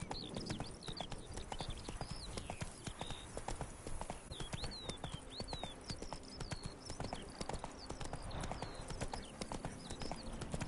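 Roach the horse in The Witcher 3 trots with a steady, brisk clip-clop of hooves, close and continuous, over an ambient game soundscape of chirping birds.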